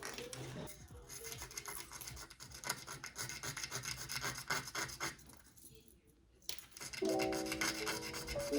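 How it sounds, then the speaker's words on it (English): Sandpaper rubbed steadily against the front of a plastic part of a Neutrona Wand kit, a continuous close scratchy rasp with brief pauses between strokes. "we're gonna sand down the front here just a little bit"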